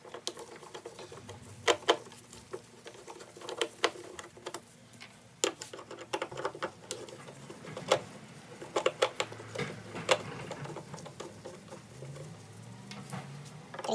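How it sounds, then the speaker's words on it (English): Screws holding a headlight ballast on a Mitsubishi Lancer Evolution VIII are being undone. Close, irregular small clicks, taps and light rattles scatter over a quiet background, with no talk. "All you have to do is unscrew it."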